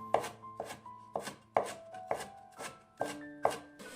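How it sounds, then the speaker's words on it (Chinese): A knife chops a small piece of fresh ginger into mince on a cutting board, giving about nine crisp, evenly spaced knocks that ring close and clear with no voices. "1小块生姜，给它切成末。"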